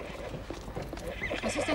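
Horses whinny and hooves clip-clop close by on a farm in wartime, over a busy, noisy background for a couple of seconds.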